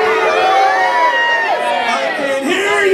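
Loud, dense crowd of spectators cheering, whooping and shouting together at a Canadian lumberjack show with log rolling competition, a sustained roar of many voices with excited yells rising throughout.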